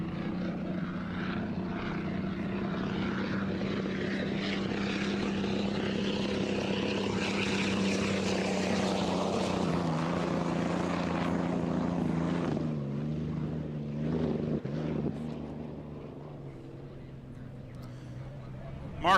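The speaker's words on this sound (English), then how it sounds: "This boat is powered by a stock Allison. You don't want to hear me, you want to hear the thunder." A hydroplane race boat with a stock Allison aircraft engine roars past at a 2023 Guntersville Hydrofest race, a loud, throaty drone that rises and shifts in pitch as it passes, then fades slightly.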